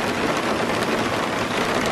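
Heavy rain pours steadily outdoors on Hamilton Island, a dense, continuous hiss of water close by with no talking.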